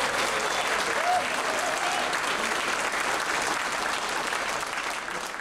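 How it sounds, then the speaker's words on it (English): Sustained applause from a large audience at a blues event in Memphis, steady, dense clapping filling the whole stretch at even loudness with a faint murmur of crowd beneath. "So while you're clapping, give yourselves a hand"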